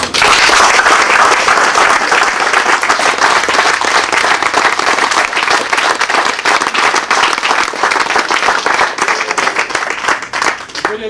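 Loud, sustained applause from a school audience in Kaufbeuren, dense clapping running steadily for about eleven seconds and easing slightly near the end.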